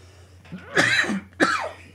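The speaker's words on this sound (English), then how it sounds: "And I'm not done coughing." Two sharp, close coughs, a longer one followed after a short pause by a second, with no talking around them.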